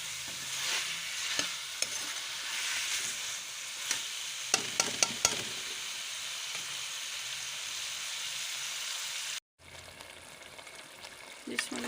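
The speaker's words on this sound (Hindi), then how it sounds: "आलू की भुनाई हो रही है" Potatoes fry in a pan, a constant soft sizzle broken by scraping clicks and knocks as a spoon stirs them, with a brief cut near the end before the sizzling resumes; no talking.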